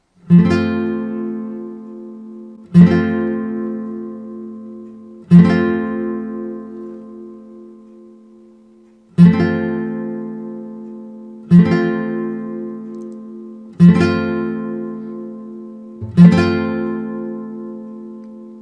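Seven separate F barre chords strummed one at a time on guitar, each ringing out and fading before the next, slow and evenly spaced, close and alone.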